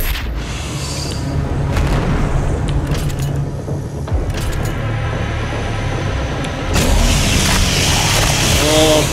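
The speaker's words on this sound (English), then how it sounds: "chainsaw. Hello, my favourite weapon." The chainsaw weapon in Doom Eternal roars as a loud, continuous buzzing drone over booming game effects, with a sharper surge of grinding noise near the end.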